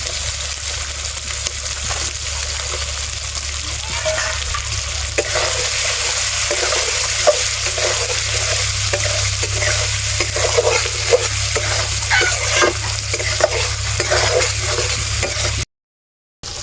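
Pre-fried potatoes tipped into a pan of Bengali snakehead fish curry base with salt, then stirred, giving a steady close sizzle with frequent scraping spoon strokes and no talking.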